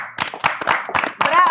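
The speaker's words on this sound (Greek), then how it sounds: "ένα μεγάλο χειροκρότημα στην Αδριάννα μας." Applause on a television dating show, several sharp bursts of clapping from a small group mixed with speech over the top.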